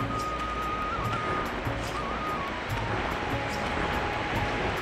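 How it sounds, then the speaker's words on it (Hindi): The Bhagirathi river (Ganga) rushing through a Himalayan valley in Uttarakhand, a loud continuous roar of fast water with wind, steady throughout with no talk. "आप शोर सुन पा रहे होंगे भागीरथी का, माँ गंगा का,"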